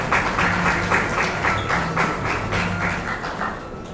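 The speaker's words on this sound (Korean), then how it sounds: "박수로 맞아주세요." Audience applause welcoming a speaker to the stage at a blockchain conference session, a steady dense wash of clapping from a crowd, continuous and fairly loud throughout with no voices.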